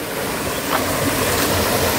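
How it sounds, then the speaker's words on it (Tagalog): Water rushes over a man-made waterfall into a clear river stream, a steady close churning roar that fills the whole moment, with no talking over it. "Merong man-made falls ata tawag dito o"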